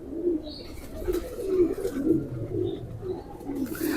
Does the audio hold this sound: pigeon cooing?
yes